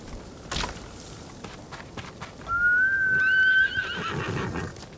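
In the video game Ghost of Tsushima, a horse gives one loud, close whinny that rises and trails off over faint clip-clop hooves and low background noise.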